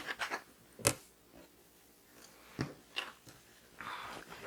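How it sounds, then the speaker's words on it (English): Scissors snipping the corners off fabric pieces for a reusable gift bag, a few short separate crisp cuts with quiet pauses between them, close and fairly soft. "Now we're going to cut the corners off."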